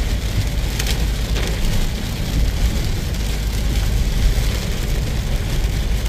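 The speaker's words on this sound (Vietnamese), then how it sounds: "Mưa tầm tã luôn." Heavy rain pours down steadily onto the road along Nguyễn Văn Linh street, a dense, unbroken hiss that stays loud and close throughout, with no voices.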